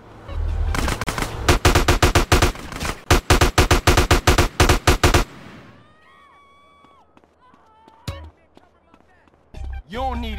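Video game gunfire: loud, rapid automatic bursts in several strings of shots for about five seconds, then fading into scattered lighter effects and a short burst of speech near the end.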